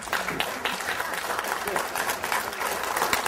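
After a lecture on the Gulf oil spill, a seated audience breaks into sustained applause, with dense, even clapping filling the room at moderate loudness for the whole stretch.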